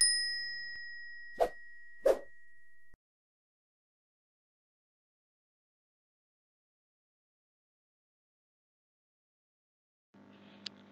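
Two bright bell dings in quick succession, clear and close, followed by a long stretch of silence and a faint burst of noise at the end.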